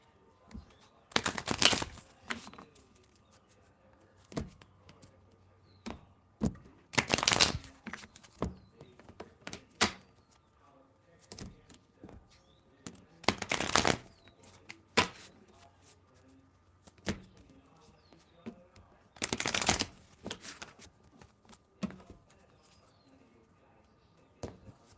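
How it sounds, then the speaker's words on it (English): A tarot deck being shuffled in several short, crisp bursts a few seconds apart, with quieter card taps and handling in the gaps. The sounds are close and clear, with no talking. "Let me just do a couple shuffles with this deck here."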